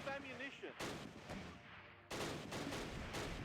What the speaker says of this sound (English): there we go, beautiful mortar strike.